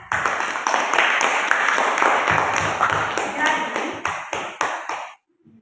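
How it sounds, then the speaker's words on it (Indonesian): Classroom applause for a student: dense clapping from a group of students, steady and close for about five seconds, then thinning out and stopping abruptly. "Beri tepuk tangan dulu untuk Olivia."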